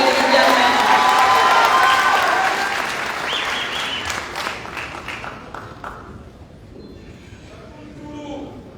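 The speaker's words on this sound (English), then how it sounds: "Let's give it a welcoming round of applause" A crowd at a youth gathering closing ceremony in Zambia claps and cheers loudly, then the applause thins and fades over several seconds, leaving scattered claps and murmuring voices.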